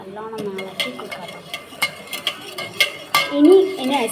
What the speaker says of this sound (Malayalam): നമുക്ക് നല്ലോണം ഇളക്കി കൊടുക്കാം.